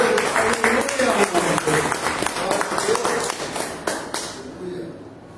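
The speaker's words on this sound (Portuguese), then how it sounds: "Aplauda o Senhor" A church congregation applauds during a morning service, a dense patter of claps that gradually thins and fades, with a voice speaking over it.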